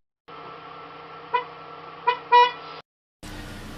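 A Ford Mustang car horn sounds a steady, loud, close honk lasting a couple of seconds, with small bumps in the tone partway through. It cuts off, and a brief burst of other noise follows.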